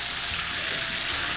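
Corn tortillas briefly passed through hot oil for enchiladas, giving a loud, steady, bright sizzle that stays even and continuous throughout.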